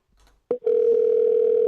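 A telephone line picks up with a short click, then a steady, loud, unbroken dial tone hums on alone, with a faint murmur just before it.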